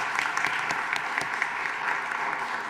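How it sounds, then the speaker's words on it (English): Audience applause for a cadet at a school district board meeting, a steady dense wash of clapping throughout with no pauses and no voices heard. "please give Cadet Antiakula one more round of applause."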